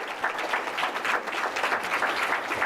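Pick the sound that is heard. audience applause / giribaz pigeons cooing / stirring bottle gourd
audience applause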